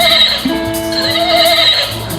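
A person imitates a horse neighing at a spoken-word poetry performance, a sustained whinnying vocal sound of about two seconds with a shaky, wavering pitch, heard alone and close.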